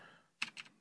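Two quick, quiet keystrokes on a computer keyboard, a soft double click in a quiet room after a brief pause.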